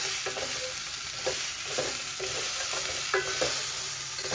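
Washed clams stirred in a pan, with rhythmic scraping strokes of the spoon over a steady close sizzle, no voices.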